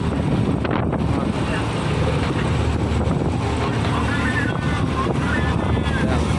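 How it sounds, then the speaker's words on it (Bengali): A boat rolls on rough sea waves in strong wind, with a constant loud roar of wind buffeting and rushing water filling the whole stretch and an engine-like rumble underneath. "সমুদ্রতে এমন ঢেউ হচ্ছে কোনো মতেই চালাতে পারছে না, এত সমুদ্রতে ঢেউ হচ্ছে"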